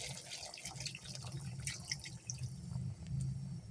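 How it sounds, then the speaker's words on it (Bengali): Water poured into a pot of chicken curry cooking in oil, a soft low splashing and gurgling trickle, close and quiet. "এবারে আমরা আজ মতো জল দিয়ে দেবো।"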